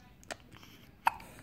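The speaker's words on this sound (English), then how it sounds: "It's a big hiccup." A baby's single hiccup, a short sharp burst near the microphone after a fainter earlier catch, in a quiet room.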